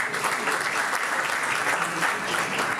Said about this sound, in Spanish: pido un aplauso para nuestro delegado de Marruecos, que es Moxi.